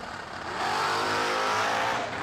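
Drag racing cars launch off the line, a short loud engine roar that swells after a brief start and holds at full throttle before easing, with no voices over it.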